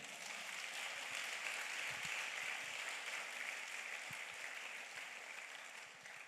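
A church congregation claps steadily in sustained applause, a dense broadband wash of many hands that holds evenly throughout and fades only slightly near the end, with no talk.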